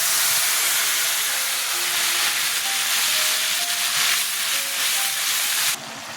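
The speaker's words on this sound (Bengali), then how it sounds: "জিরে দিলাম ফোড়নে লঙ্কা আদা টমেটো পেস্ট ছেড়ে দিলাম" Chilli, ginger and tomato paste hit hot tempering oil with cumin for a jackfruit-seed dhoka, giving a loud, steady, close hissing sizzle that holds throughout and drops sharply near the end.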